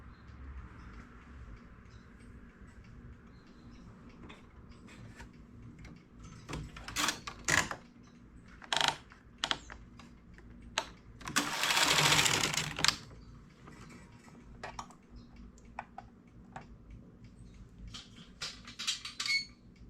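A knitting machine knits its first row with two strands of industrial yarn at tension setting 1: scattered sharp mechanical clicks, then a loud rushing carriage pass for about a second, followed by more clicks.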